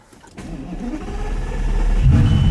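A Lamborghini engine with a manual gearbox cranks on the key and turns over, then catches and settles into a loud, steady idle, close by with no talking.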